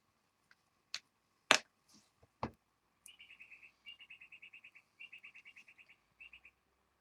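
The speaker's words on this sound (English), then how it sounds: "Can you hear the birds now?" A few sharp taps, then a bird's quick chirps in short repeated trills, clear against a quiet outdoor background.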